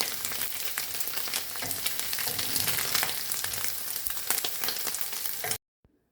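Prawns fry steadily in hot oil for a pickle, giving a dense, even sizzle with occasional crackles that runs unbroken and then cuts off abruptly near the end.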